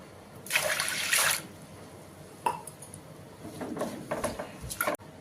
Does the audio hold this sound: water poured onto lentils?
yes